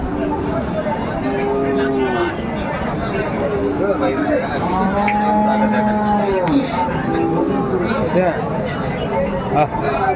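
A Sahiwal bull lows at a busy cattle market in Dinajpur, its long drawn moos rising over constant crowd babble and nearby voices talking.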